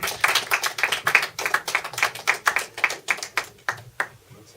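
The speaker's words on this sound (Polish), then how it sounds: "No i to już takie mocne brawa." Hearty rhythmic clapping from a crowd at a school road-safety project awards ceremony, honoring a first-place school team; steady close bursts of hands that thin out and stop near the end.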